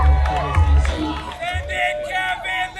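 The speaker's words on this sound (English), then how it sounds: "Some big screams from the crowd." A crowd screams, whoops and cheers loudly at a skateboarding competition on a concrete course. The shouts come in bursts of overlapping voices with rising and falling yells and some clapping underneath.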